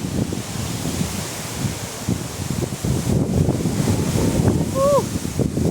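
Gusty wind buffets the microphone in a cottage garden, with a steady roaring rush that swells and rustles throughout, loud and close.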